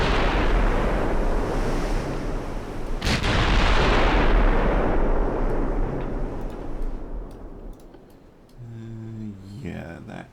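Heavy naval guns of a battleship boom in a World War II naval battle game, a sharp blast near three seconds rising out of a dense, roaring rumble of sea and distant gunfire, with a faint voice near the end.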